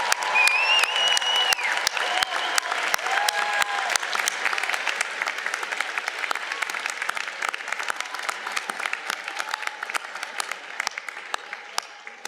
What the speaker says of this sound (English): how about another round of applause for the mothers,